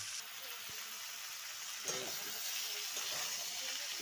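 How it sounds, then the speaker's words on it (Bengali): Fish curry with kalo jeere, potato and flat beans is slowly sautéed in a pan, giving a steady, soft sizzle throughout, with a few light utensil touches. "আস্তে আস্তে করে ভালো করে এটিকে কষে নেব"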